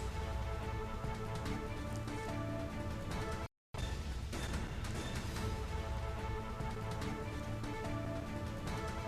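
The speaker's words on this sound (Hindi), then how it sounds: "दिन निकलते ही बूंदाबांदी हुई शुरू" Light drizzle falling at daybreak in Bulandshahr, a dense, steady patter of drops heard close and continuous, broken by one brief gap of silence.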